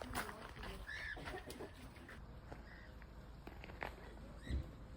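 Chickens clucking close by in a farm-like setting with guinea pigs nearby, a few short clucks and calls over a steady outdoor background with faint voices.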